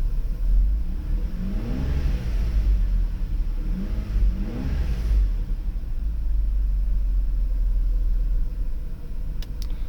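A cold Mercedes V12 car engine idles with a deep, steady rumble, rising in two brief revs early on before settling back to a low hum.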